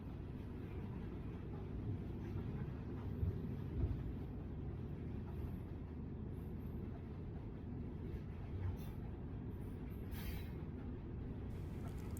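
A freight train of loaded aggregate hoppers rolls past at restricted speed with a steady, heavy rumble and faint metallic squeaks and clanks for the whole stretch, with no voices.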